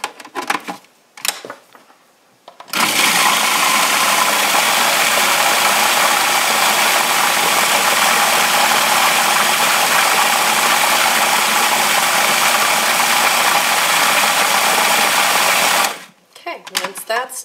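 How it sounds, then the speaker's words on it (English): A blender runs on coconut sugar and cake batter with a loud, steady whirring drone held for about thirteen seconds. Brief handling noises come before it and after it stops. "I'm just going to blend that together for a couple of minutes"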